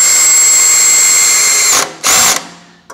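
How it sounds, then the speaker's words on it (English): A Turbosawmill automated sawmill cutting hardwood timber gives a loud, steady high-pitched saw whine that stops abruptly, bursts again briefly, then winds down and fades. "I've got some beautiful hardwood timber that I want to mill up"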